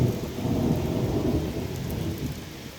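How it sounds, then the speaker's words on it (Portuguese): Rain falls steadily over a coffee plantation in Brazil during flowering season, a dense, continuous patter close by with low rumbling underneath, steady in level throughout. "A chuvinha tá aí, ó."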